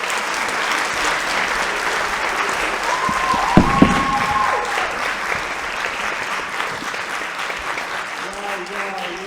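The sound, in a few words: audience applause for the models in a theatre play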